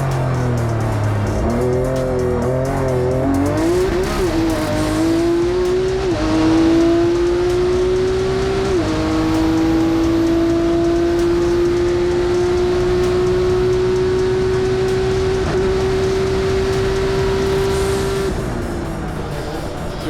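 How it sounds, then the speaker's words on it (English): Nissan GT-R race car driving hard on a track during a super lap battle, its engine loud and close, rising in steady revving climbs through the gears with brief shifts and a sustained high-pitched drone. "for a heavy car like a GTR to do that is incredible engineering"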